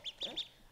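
Ducks quack three times in quick succession, close by and fairly loud, each call a short nasal burst, followed by quiet.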